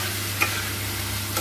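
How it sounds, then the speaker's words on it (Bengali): Tomatoes and spices fry in a pan with banana flower and prawns being cooked, a steady close sizzle broken by a couple of scraping stirs of the spatula, with no talking. "আর কেটে রাখা টমেটোগুলোকে দিয়ে দেব। দিয়ে ভালো করে নেড়ে চেড়ে নেব।"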